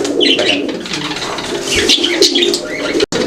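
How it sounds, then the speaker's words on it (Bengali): Pigeons at a fancy pigeon market coo and call close by, a busy layer of soft cooing and chirps running throughout, ending with a brief cut. "এখানে সিঙ্গেল আরো একটা কবুতর আছে"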